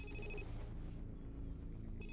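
Telephone ringing in the video game The Complex, an electronic trilling ring that repeats with a short pause between bursts, quiet and fairly close, with no voices over it.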